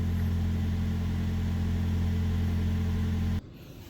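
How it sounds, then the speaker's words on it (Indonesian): Toyota Veloz hybrid engine running at fairly high revs, heard from inside the cabin of a Yaris Cross: a steady, loud low hum with a droning tone that holds evenly, then cuts off abruptly near the end. "Nih ya, suara RPM-nya tuh ngeraung kayak RPM cukup tinggi lah ini, bukan kayak idle mesin biasa"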